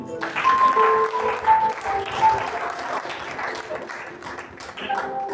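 A church congregation breaks into sustained applause and clapping, a dense wash of many hands filling the room, with voices and a held musical tone mixed in throughout.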